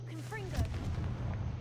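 A Confringo fire spell blasts inside a video game, a short booming burst over a steady low hum, with a voice speaking just before it.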